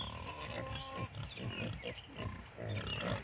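Hungry farm pigs grunt and snort close by in a pen, a continuous rough rumbling chorus of overlapping grunts with occasional louder squeals, with no speech over them.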